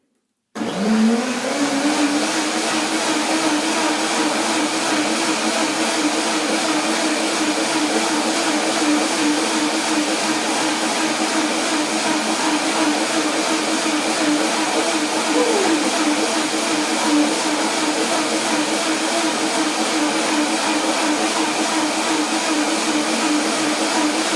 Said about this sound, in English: So I blend it again to make it more creamy now